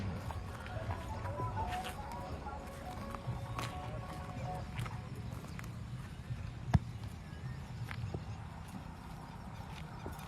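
A mare's hooves clip-clop steadily on hard ground while ridden, faint under a constant outdoor rumble and murmur, with one sharp knock partway through.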